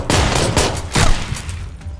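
Rapid gunfire crackles in PUBG, several close, loud shots bursting in quick succession over a couple of seconds with no talk.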